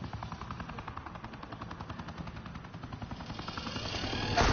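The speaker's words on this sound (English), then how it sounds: "Suppressing fire." Rapid suppressing gunfire in a Batman-universe video game, a steady fast rattle of shots running without pause, moderately loud and growing slightly louder toward the end.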